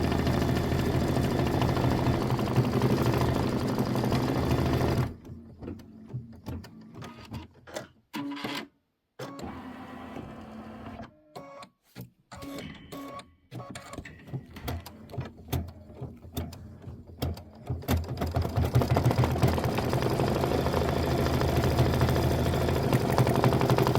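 A computerized embroidery machine stitches out a heart design for a mini quilt, its rapid mechanical needle chatter steady and close, pausing briefly now and then before running on loudly.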